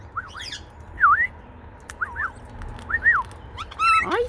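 Two pet birds, Aussie and Daisy, give a string of squawks and whistled calls at close range, one rising call after another in an uneven rhythm, with a harsher burst at the end.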